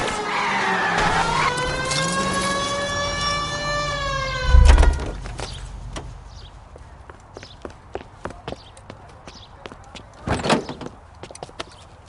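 Car tires screech in a long, rising skid during a police chase in L.A. Noire on PS4, followed by a heavy thud, then scattered knocks and a second sharp impact, with engine noise underneath.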